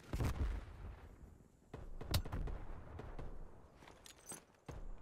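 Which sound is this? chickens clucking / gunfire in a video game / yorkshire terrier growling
gunfire in a video game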